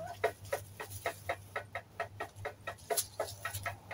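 Chickens cluck in a garden, a steady run of short, close, fairly loud clucks repeating about twice a second, with no talking.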